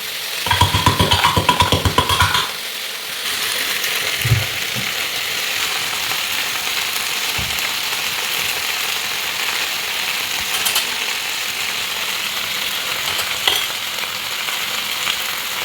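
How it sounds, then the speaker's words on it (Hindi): Tempering for kadhi sizzles and crackles in hot oil in a home kitchen, with a loud burst at the start easing into a steady frying hiss that carries on with occasional clinks. "यहाँ तड़का तैयार हो रहा है।"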